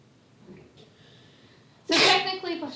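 A quiet pause with faint breathing, then a single loud, sharp sneeze bursting out close to the microphone near the end.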